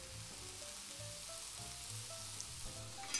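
Food sizzles steadily in a pan of extra virgin olive oil, a faint, even crackle that continues under quiet kitchen background tones.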